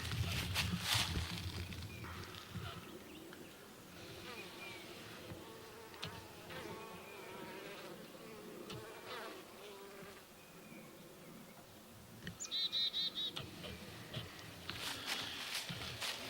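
Steady insect buzzing from honeybees swarming close around a hive vent hole, a continuous drone with occasional louder passes and faint rustling, no voices.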